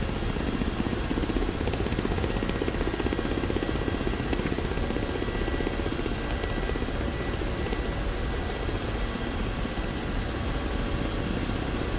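KA-50 Black Shark attack helicopter descending in a flight simulator over Georgia, its coaxial rotors giving a steady, loud, dense thrumming drone with an engine whine underneath, unbroken for the whole stretch and without voices.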